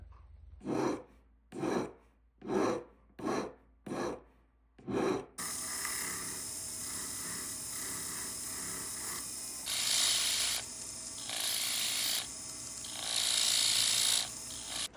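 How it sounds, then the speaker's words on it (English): Bursts of rasping metal filing on a metal ring, five short strokes, then continuous grinding with louder surges, close and steady, no voices. "We are doing some sanding to it and contouring it"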